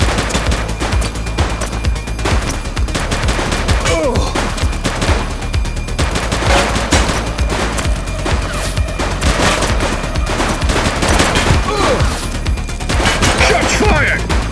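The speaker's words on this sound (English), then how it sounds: "Shots fired!" Sustained heavy gunfire rattles through a police shootout in the video game The Precinct, loud dense bursts and impacts running without pause, with shouted voices mixed in.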